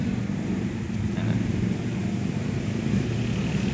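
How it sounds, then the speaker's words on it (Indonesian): BMW motorcycles passing along a city street, a steady low engine rumble mixed with general traffic noise, continuous and fairly close with no talking. "ini kan ya motor berisik banget ya, lewat-lewat dari tadi"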